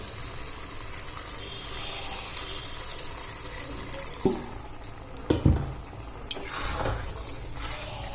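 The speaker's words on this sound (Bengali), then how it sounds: "সেই আমচুর ভেজানো জলটা আমি এর মধ্যে দিয়ে দেব।" Soaking water from dried mango (amchur) poured into a cooking pan for a Bengali amchur posto dish, heard as a wet splash and sizzle with stirring and a few louder clatters, near and without talk.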